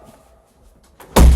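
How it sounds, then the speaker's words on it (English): A window in a room sliding and banging shut, a short rustle followed by a sudden loud thud at the end, close by with no voices. "Let's shut this window."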